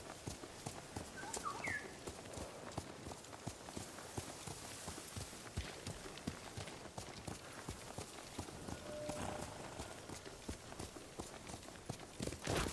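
Horse hooves clip-clopping in the video game Ghost of Tsushima, a quick, steady run of crisp hoofbeats over ground, with faint ambient sounds and a brief whinny-like tone early on.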